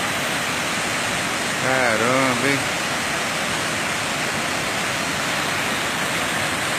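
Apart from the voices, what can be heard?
Cachoeira da Fumaça waterfall in Alegre, Espírito Santo, Brazil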